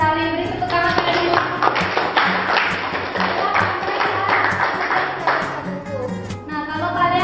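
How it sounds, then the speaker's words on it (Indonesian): Elementary classroom students applaud a correct answer with several seconds of dense, overlapping hand claps. Children's voices sound at the start and end. "Beri tepuk tangan sekali"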